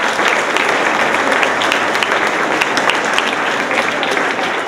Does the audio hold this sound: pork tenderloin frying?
no